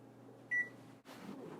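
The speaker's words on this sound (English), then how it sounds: "Set the timer for 20 minutes." A single short electronic beep sounds as a kitchen oven timer is set for a pancake baking at 400 degrees. It is brief and quiet over faint room hum and a soft rustle.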